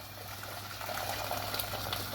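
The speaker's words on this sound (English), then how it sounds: "I've got a kettle full of boiling water here. I'll go straight in with that." Boiling water pours from a kettle into a large saucepan, a steady close rushing gush with a low hum beneath, rising slightly toward the end, no speech.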